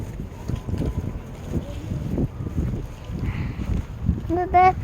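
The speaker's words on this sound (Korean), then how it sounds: "바람이 쏠쏠 부는데 좋은 날씨 맞아요?" Outdoor wind buffets the microphone in a low, steady rumble throughout, and a brief voice rises near the end.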